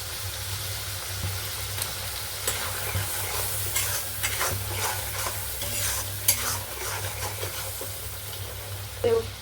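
Spice masala with turmeric, chili powder and whisked yogurt sizzles and fries in oil in a pan while a utensil stirs and scrapes, a steady crackling hiss with periodic scraping strokes close up and no talk.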